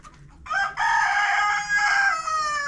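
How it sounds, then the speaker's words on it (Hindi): A rooster crows loudly and close among poultry kept through winter, one long drawn-out call with faint clucking and movement just before it and no talk. "तो अभी मुर्गियों को इधर शिफ्ट करते हैं।"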